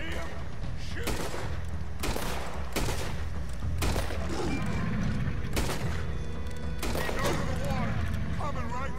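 Gunfire in the video game Red Dead Redemption 2, with repeated bursts of shots over a dense, loud game soundtrack and shouting voices throughout.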